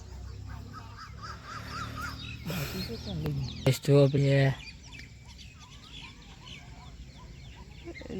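A swan gives a loud, brassy honk that lasts about a second, standing out among outdoor voices and scattered bird calls.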